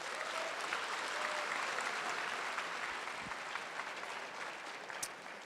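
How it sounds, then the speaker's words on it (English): Dense, steady applause from a large audience at a Lambton College convocation in Toronto, continuous clapping that holds for several seconds and eases slightly near the end. "You should give yourself a round of applause now,"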